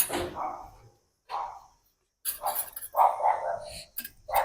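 A neighbour's dog lets out a few sharp barks in short bursts separated by silent gaps, moderately loud and not far away.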